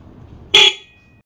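A motorcycle horn, boosted with an electric fan capacitor, gives one loud, short honk close by. A quiet background comes before it, and the bright tone trails off quickly.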